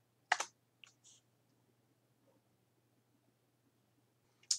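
A few sharp keystrokes on a computer keyboard while a shutdown command is typed at a Windows command prompt: a clicking cluster near the start, two lighter taps, a long quiet gap, then one more click at the end.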